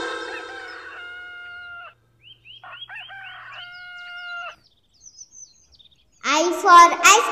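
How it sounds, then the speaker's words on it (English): Hen and rooster in a children's alphabet song, with short clucks and a crowing call sounding clean and studio-like, separated by silent gaps and followed by a burst of chirpy sound at the end. "H for hen."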